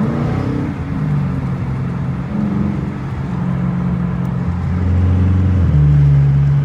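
A Dodge Challenger R/T cruises on a wet freeway early in the morning, its engine a steady low rumble with tire and road noise, swelling louder as it accelerates toward the end.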